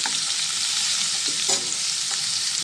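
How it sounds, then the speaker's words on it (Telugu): Onion pieces fry in hot oil for an egg curry, a steady, loud, close sizzle with faint stirring clicks, and no voices. "ఇప్పుడు నూనె మరిగిపోయింది మనం ఉల్లిపాయ ముక్కలు వేసేసుకుందామండి ఇది కొంచెం బాగా ఫ్రై అవ్వాలండి"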